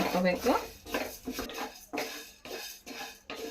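Dry-roasted coriander seeds for puliyogare powder are tipped from the pan onto a plate. Close clinks and scraping rattles of utensil on metal come in short bursts, with a brief voice near the start.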